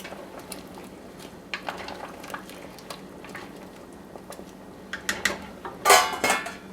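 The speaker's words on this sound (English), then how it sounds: "we're going to go ahead and stir it" A spoon stirs butternut squash soup in a pot, faint scraping and scattered metallic clinks and taps, growing louder with sharper clatters near the end.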